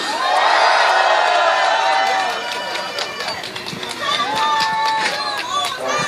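A crowd at a political rally cheering and shouting with clapping as a speaker is introduced, loud and dense throughout, with voices whooping over the noise.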